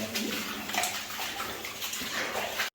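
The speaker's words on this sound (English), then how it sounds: "So we're walking in the water so that we don't disturb anything that might be off to the side." Feet wading through water inside an underground tallow candle mine, a continuous splashing and sloshing close by that carries on throughout with no voices.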